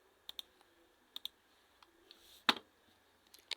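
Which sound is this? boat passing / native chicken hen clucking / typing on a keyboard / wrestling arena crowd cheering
typing on a keyboard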